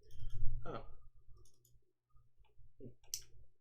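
Computer mouse clicks while selecting faces, vertices and edges in Blender: a few soft, isolated clicks spaced out between and under a man's quiet speech.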